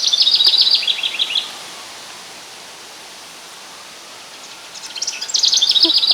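A songbird sings in a summer garden, bright chirping phrases bursting in at the start and again near the end, with a quiet gap of soft background hiss between.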